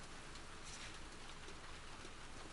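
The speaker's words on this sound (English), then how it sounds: "It's raining." Steady rain falls in The Last of Us Part II, a dense, even, wide hiss of drops pattering on surfaces, heard alone and fairly faint.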